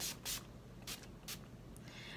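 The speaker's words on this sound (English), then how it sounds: "I like to spray it on before my mascara" Several short hissing bursts of makeup setting spray mist, spaced irregularly and close up, with quiet in between.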